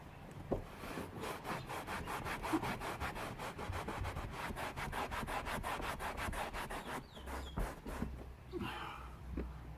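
Microfiber cloth rubbing the roof lining inside a 2009 Toyota Prado: soft, steady back-and-forth wiping strokes in a quick regular rhythm, close and quiet, ending in a few looser scuffs.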